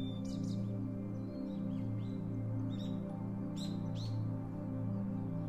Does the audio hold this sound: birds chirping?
yes